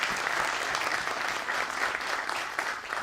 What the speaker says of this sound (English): So how about a round of applause for our great speakers?